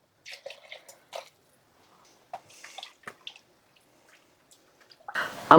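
A quart of water goes into a crock pot in scattered splashes and drips, quiet and close, ending in a louder burst of pouring.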